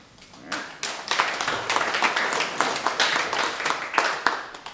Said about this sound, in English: that's my first clap, I guess, for a sermon